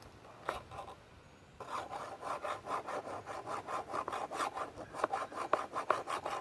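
A file rasps back and forth sharpening a chainsaw chain, a quiet single stroke followed by a run of rhythmic, even strokes close up.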